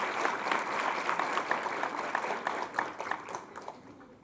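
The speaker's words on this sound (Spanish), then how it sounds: "Recibamos con un fuerte aplauso a Raúl Bolaños." A crowd applauds steadily, a dense patter of many hands clapping that gradually fades out at the end.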